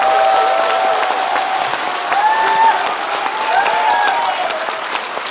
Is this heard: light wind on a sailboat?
no